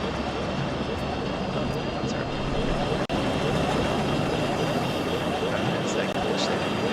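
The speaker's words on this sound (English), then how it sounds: "Helicopter sounds like it's going in." Helicopter in a military video game, a loud continuous rotor and engine roar close by, steady throughout with a brief dropout midway.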